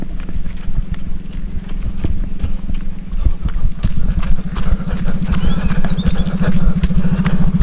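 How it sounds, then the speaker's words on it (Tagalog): A motorcycle is pushed by hand up a steep mountain trail, with continuous low engine rumble, clattering and scuffing of tires and footsteps on rough ground, loud and close throughout. "Tulak muna namin yung motor niya."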